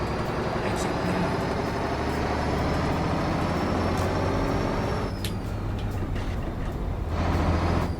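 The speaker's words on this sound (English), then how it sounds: "this is a lot better sounding engine" KrAZ 255 truck engine in Euro Truck Simulator 2, a steady loud diesel rumble running the whole time with a faint whine above it, and an air-brake hiss near the end.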